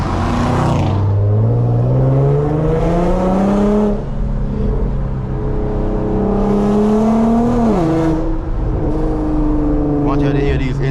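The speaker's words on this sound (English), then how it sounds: "I want y'all to hear these engine, man." Inside a 400whp Infiniti Q50 on a late-night drive, the engine and loud exhaust climb through repeated hard pulls, each rev rising steadily then dropping at a shift, with a voice talking over parts of it.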